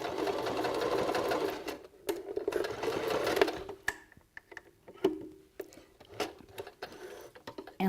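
A sewing machine stitches a beanie seam, tapering past a V, running steadily for about four seconds and then breaking into short bursts of stitching with pauses between them.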